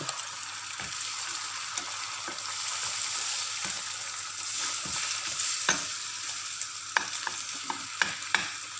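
An egg frying in a pan with leftover rice nearby produces a soft, steady sizzle, punctuated by sharp clicks and scrapes of stirring that grow more frequent toward the end.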